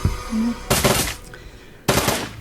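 Automated turret gunfire in Shadowrun: Dragonfall comes in two loud, close bursts of rapid shots, one under a second in and another near two seconds, with no talking.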